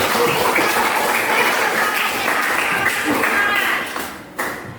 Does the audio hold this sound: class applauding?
yes